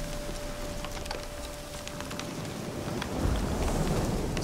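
Steady rain hisses in the video game The Witcher 3: Hearts of Stone, and a deep roll of thunder swells near the end.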